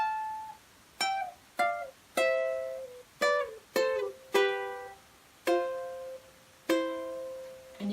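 Ukulele picking pattern of single plucked notes on the 1st and 2nd strings, eight bright notes ringing out one after another at a relaxed pace, close and alone.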